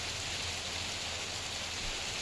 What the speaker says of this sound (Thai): บรรยากาศฝนตก อากาศร้อนคักร้อนแน่